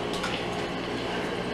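A water gun sprays in the Wii U Game Party video game, a steady hiss of spraying water that holds at an even level throughout.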